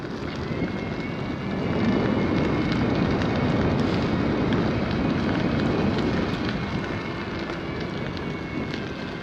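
Steady, loud wind buffeting a microphone as a cyclist rides into a strong headwind, a dense continuous roar that swells slightly after the first seconds and never lets up.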